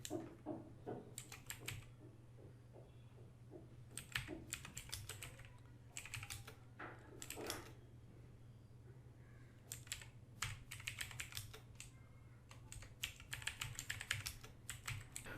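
Computer keyboard typing a product note: bursts of quick, close key clicks separated by short pauses, over a low steady hum, no talking.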